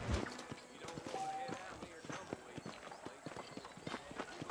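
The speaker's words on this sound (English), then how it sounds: "I don't know whose horse that is." Horse hooves clip-clop steadily at a trotting rhythm in the Red Dead Redemption video game, moderately close, with a brief high tone and faint background game sound.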